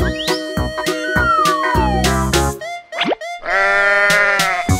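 A cartoon sheep bleats among a string of animal calls in a children's painted-animal piece, with bright synthetic boings and plops around it; the sounds are loud, close and run back to back.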